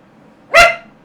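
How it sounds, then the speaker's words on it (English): A single sharp dog bark, loud and close, bursting out of a quiet room and fading within about half a second. "Why are you barking at me?"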